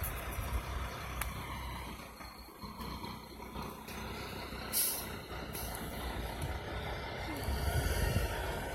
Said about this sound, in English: Now looks like this truck is going to leave.